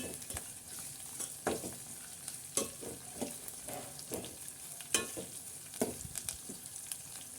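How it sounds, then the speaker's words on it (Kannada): Cashews and raisins sautéing in an oil-filled pan for upma, with a steady soft sizzle broken by intermittent scraping stirs of a spoon, close and moderately quiet. "ಸ್ವಲ್ಪ ಗೋಡಂಬಿ ಮತ್ತು ದ್ರಾಕ್ಷಿ ಹಾಕ್ಕೊಳ್ಳಿ ಆಪ್ಷನ್ನು ಇವಾಗ ಒಂದು ಸ್ವಲ್ಪ ಬಾಡಿಸ್ಕೊಳ್ಳಿ"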